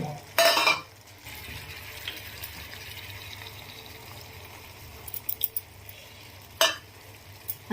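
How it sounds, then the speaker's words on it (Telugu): Egg and ridge gourd curry cooks in a pan, a low simmering sizzle broken by brief scraping bursts of stirring at the start, middle and near the end, close by and with no talk. "మధ్య మధ్యలో దీన్ని నెమ్మదిగా కలుపుకుంటూ మనం దగ్గరగా చేసుకోవాలి"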